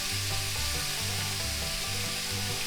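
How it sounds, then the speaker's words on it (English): Pork chops frying in a cast iron skillet give a steady, close, broadband sizzle, with low rhythmic scraping or stirring tones underneath and no talking. "We'll just hear that sizzle."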